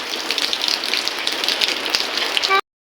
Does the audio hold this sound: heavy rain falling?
yes